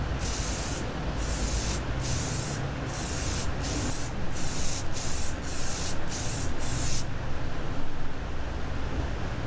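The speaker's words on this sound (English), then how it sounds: "Spray another layer of dark brown." Dark brown spray paint is applied to an RC car from an aerosol can in a steady, close hiss. It is broken by a string of brief gaps as the nozzle is pressed and released repeatedly, and then it holds continuous near the end.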